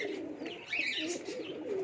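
Big pigeons kept in a breeding loft with a nesting pair on eggs coo softly and continuously at close range, a low steady murmur with no talking over it.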